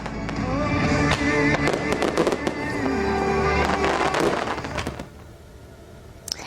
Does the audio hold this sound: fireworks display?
yes